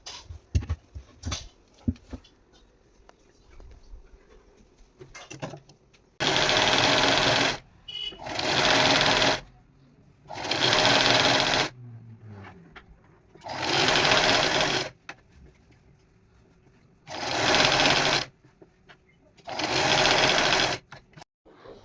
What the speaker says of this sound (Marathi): आणि आता शिवून घेणार आहे.